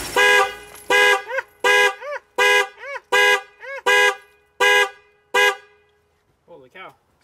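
A Ford F-150's alarm honks its horn in a steady, loud repeating pattern of about nine blasts, with a voice briefly heard at the end.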